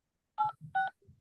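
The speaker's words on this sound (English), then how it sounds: "Enter your meeting ID followed by pound." Telephone keypad DTMF tones keyed in while dialing into a Zoom meeting: two short, clear beeps in quick succession, with faint rustling and clicks between them.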